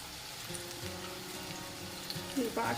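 Taro leaf vadi (alu vadi) frying in oil in a pan, a soft, steady low sizzle that stays quiet and close, with a brief clatter near the end as the pieces are turned.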